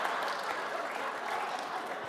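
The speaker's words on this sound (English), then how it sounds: "The crowd is saying, go, Regis," A live studio crowd at the Ronald Reagan Museum and Library cheering and clapping for Regis Philbin, heard as a steady wash of applause and crowd noise with no breaks.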